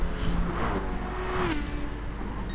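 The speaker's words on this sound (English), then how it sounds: "This car's flashed by. Great sound, great vision as they all fly through." A GT3 race car in a sim racing game at the Red Bull Ring roars past with a rising then falling engine note over a steady engine hum.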